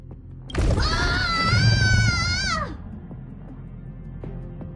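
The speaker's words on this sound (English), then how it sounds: "Did someone scream?" A single loud, drawn-out high-pitched scream in the video game Honkai: Star Rail wavers for about two seconds, then cuts off, leaving quiet background with faint clicks.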